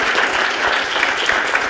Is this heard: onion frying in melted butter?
no